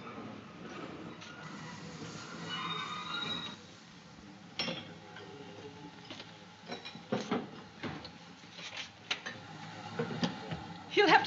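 A steam-era train at a railway station platform rumbles and clanks at moderate distance, with irregular knocks and hisses building toward the end, over faint background chatter.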